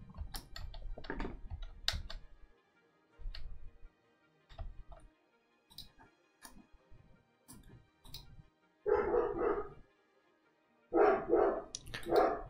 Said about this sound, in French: mon chien, à chaque fois que je tourne, il aboie.